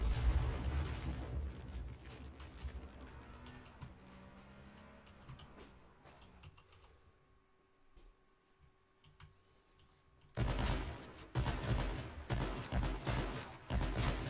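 Grenade blasts in the H1Z1 battle royale game, a run of loud, booming broadband bursts opening the stretch, a quieter lull, then another dense volley of explosive hits near the end.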